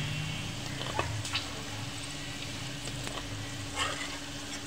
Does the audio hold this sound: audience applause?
no